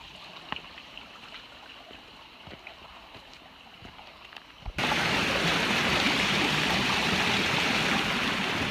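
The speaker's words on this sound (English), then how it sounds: "First stream crossing." Hikers cross a stream on the Appalachian Trail; after a few faint splashes and knocks, loud steady rushing water abruptly fills the scene and stays close and continuous.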